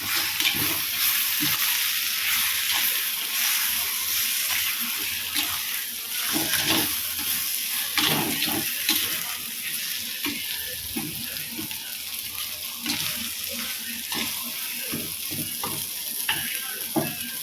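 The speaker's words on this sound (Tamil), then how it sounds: "இந்த ஸ்டேஜில் நம்ம கொஞ்சம் கொத்தமல்லி தூவி ஒரு பெரட்டி இறக்கிடலாம்." Pea and potato kurma stirred in a sizzling pan as coriander is scattered in, with a steady close frying hiss broken by repeated scraping stirs and no talking.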